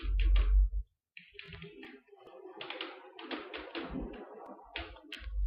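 Keys on a computer keyboard clatter in short uneven bursts of typing, close and moderately loud, with brief pauses between runs of taps.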